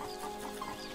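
A chicken in the survival game Force of Nature clucks faintly in a short, quiet series of soft calls with no speech over it.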